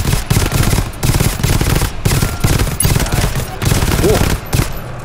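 Rapid machine gun fire in the co-op shooter GTFO, loud repeated bursts broken by short gaps, with faint voices underneath.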